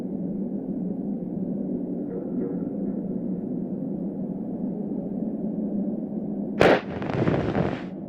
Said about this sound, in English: what an explosion! It appears that it even triggered a small avalanche